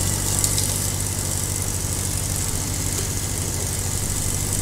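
A Swaraj 855 tractor engine in the Farming Simulator 22 video game drones steadily and loudly throughout, an unbroken idling rumble with no talk.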